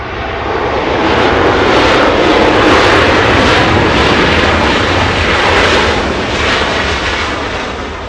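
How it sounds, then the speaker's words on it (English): A Southwest Airlines jet arriving at LAX from Austin, Texas roars loudly overhead. The engine noise swells and sustains as it passes close by, with no voices. "Now we go for the arrival. Southwest Airlines flying in from Austin,"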